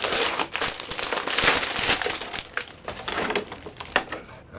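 Cellophane wrapping on a ProMaster LED308D LED light panel crinkles and crackles close up in irregular bursts, fairly loud and alone for a few seconds.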